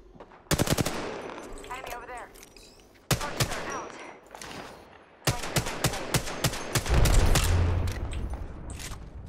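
Rapid automatic gunfire in the Apex Legends battle royale game, several close, loud bursts of rapid shots separated by short pauses, with a voice speaking briefly between them.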